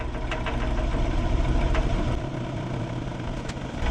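A wood lathe turning a chunk of firewood as its speed is raised gives a steady, loud mechanical drone with a rough knocking undertone and a few brief higher clicks, with no talking.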